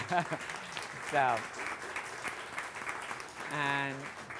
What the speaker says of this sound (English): you should really clap for him more than me